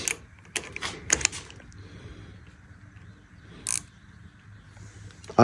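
Snap-On ratchet worked on a loose nut, giving a few sparse, quiet clicks and short metallic bursts separated by pauses, heard up close.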